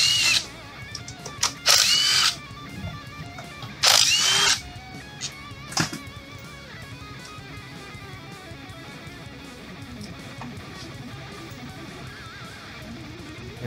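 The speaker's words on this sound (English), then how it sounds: "I'm using a 10 mil socket to remove the cover bolt." Power tool bursts as a 10 mm socket spins out the differential cover bolts on a 2010 Nissan Xterra's M205 front differential, several short loud whirring runs in the first six seconds, then quiet workshop background.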